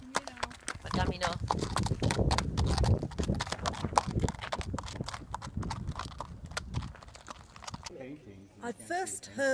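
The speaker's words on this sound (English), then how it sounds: "there are those who ride their horses" Horses walk along the Camino pilgrimage trail, their hooves clip-clopping in close, irregular beats on the path, with a whinny or snort near the end.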